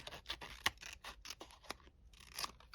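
A worn, dull blade on a craft paper trimmer slices through paper, giving repeated close rasping, scraping strokes in an irregular rhythm with no voices.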